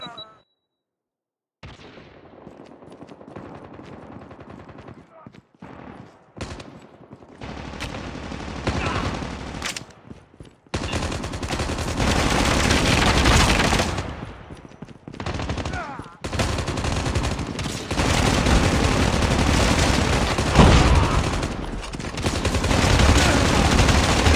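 Automatic and rapid gunfire from a Call of Duty match bursts in loud, dense volleys that run almost continuously after a brief quiet start, with short pauses between bursts and voices calling out over the shooting.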